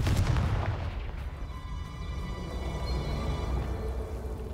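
A Confringo blasting spell cast in the Hogwarts Legacy video game gives a loud booming burst at the start, then a sustained rumbling, crackling tail of fire and debris with faint magical tones fading over several seconds.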